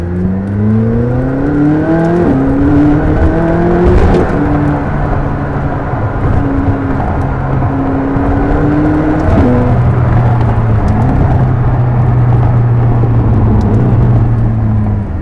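A turbocharged supercar engine revs hard and loud, pitch climbing through several paddle-shifted gear changes with sharp exhaust barks between them, a steady roaring drive throughout.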